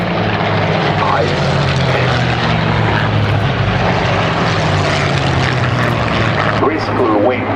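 A Griffon-engined Spitfire with two propellers flies at the Duxford Flying Legends airshow, its engine a loud, continuous, throaty propeller roar that stays near and strong throughout.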